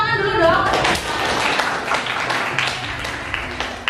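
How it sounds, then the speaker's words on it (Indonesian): Students in a classroom clap for a classmate after a teacher asks for applause, a dense patter of hands lasting a few seconds with voices mixed in. "beri tepuk tangan dulu dong."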